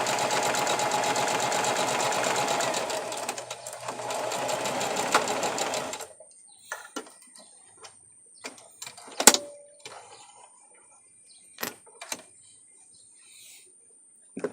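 A Singer Classic 44S sewing machine runs steadily, stitching a scrap of test fabric for about six seconds, close and loud, then stops and leaves quiet handling clicks and light taps.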